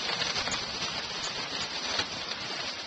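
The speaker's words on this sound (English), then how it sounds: "didn't expect for it to rain today." Steady rain falls during a thunderstorm, a dense, even hiss of patter that continues throughout, fairly close and moderately loud, with no voices.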